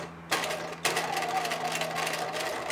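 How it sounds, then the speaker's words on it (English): Domestic sewing machine stitching a quilt binding at slow speed, a steady continuous mechanical whir with a low hum that starts abruptly and runs on, briefly pausing near the start. "Practice sewing very slowly. That means gently touching the foot pedal."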